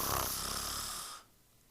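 A narrator imitates a goose snoring with one long, breathy, rasping snore held for about a second before it cuts off into quiet.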